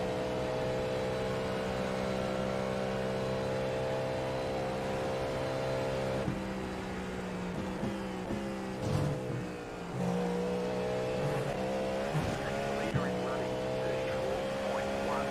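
A Porsche race car engine drones steadily at the 24 Hours of Daytona, a sustained tonal whine with gear-shift dips partway through, under continuous talk.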